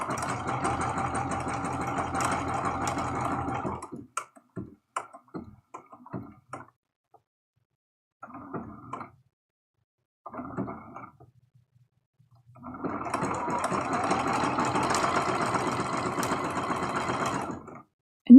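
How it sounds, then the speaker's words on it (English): Sewing machine running a zigzag stitch for raw edge applique on heart rag quilt blocks, close rapid rhythmic whirring in two long runs, with brief stop-start bursts and quiet gaps between. "We're going to lower the needle right next to the heart. And I'm doing a zigzag stitch."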